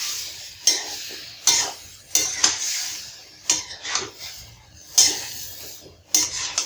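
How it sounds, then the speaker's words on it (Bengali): A drumstick curry is stirred and sautéed in a pan, with a utensil scraping and clinking against metal in repeated strokes over a light sizzle. "ছেড়ে দিব এভাবে, কষিয়ে নেব এভাবে"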